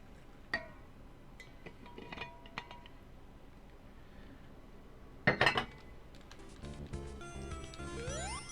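A few light clinks of glass and utensils, then a sharp knock and a rising pour of water filling a glass, close and quiet.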